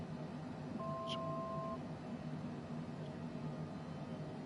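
In Microsoft Flight Simulator 2024, a single short electronic altitude alert beep sounds once over a constant engine-like drone as the plane approaches 11,000 feet.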